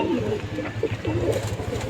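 Madrasi pigeons in a loft give soft, low cooing and murmuring calls in short repeated bursts, fairly close, over a steady low background hum.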